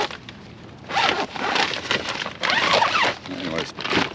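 A zipper is drawn shut on a fabric trash bag holder brought along for camping with a teardrop trailer, giving several short rasping bursts close by.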